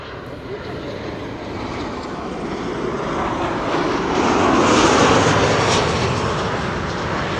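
A wide-body airliner arriving at Amsterdam Schiphol Airport, its engines giving a steady loud roar that swells toward the middle as it passes close, then eases slightly.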